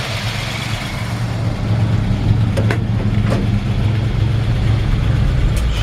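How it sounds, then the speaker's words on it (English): A 1948 Ford F1 truck engine idles steadily and smoothly with a low, even rumble, loud and close throughout, with no talking. "Hear how smooth the engine runs."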